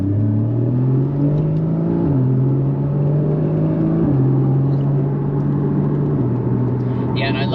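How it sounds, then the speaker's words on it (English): Porsche Cayman GTS with its naturally aspirated flat-six engine driving around town, a steady loud engine drone that steps up and down in pitch through gear changes, with a voice talking over it. "These flat six engines they put in these things are awesome."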